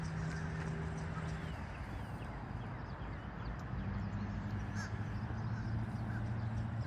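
Crows caw repeatedly outdoors at sunrise in Dennis, Massachusetts, faint and distant over a steady low ambient hum, with other birds calling sporadically.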